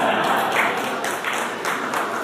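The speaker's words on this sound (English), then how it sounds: "we might as well just clap for everybody now." Guests at a 40th anniversary sister-city reception in Atlanta applaud, a dense, continuous clapping that swells and dips in waves across the room.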